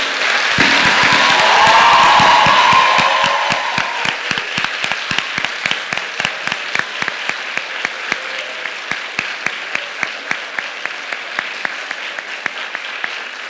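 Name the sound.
audience applauding the eloquence contest finalists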